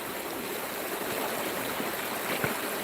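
Water pours and splashes steadily out of a gold classifier bucket at the Fraser River, a continuous close rushing wash with a small knock near the end.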